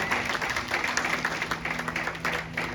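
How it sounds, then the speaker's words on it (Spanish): Applause from a church congregation during a sermon, steady and fairly faint, dense patter of many hands with a faint sustained tone underneath. "den un aplauso fuerte a Él"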